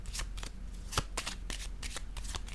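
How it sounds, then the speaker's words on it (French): Tarot cards are shuffled and handled in a quick, close series of crisp riffles and slaps, ending as a card is laid down for a reading. "Je vais déposer une carte sur la créativité."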